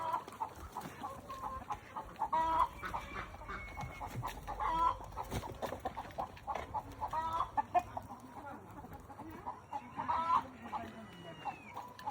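Egg-laying chickens cluck steadily on a poultry farm housing around 4000 birds, a dense, continuous flock chorus with scattered louder calls over a busy background.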